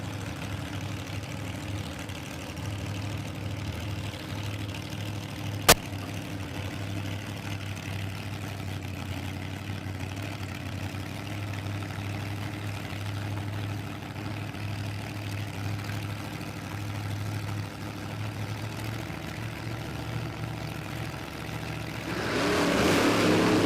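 A big-supercharged drag car named Mabel idles at Warwick Dragway with a steady, deep rumble, one sharp click partway through, then revs up loudly in the last seconds.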